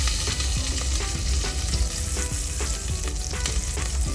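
Garlic hits hot oil with cumin in a pan and sizzles loudly and steadily, a dense crackling fry close up with scattered spits and pops throughout.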